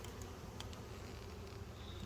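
Honey bees crowd a hive frame heavy with honey, a steady low buzzing hum filling the air up close, with faint clicks and rustles from handling the frame.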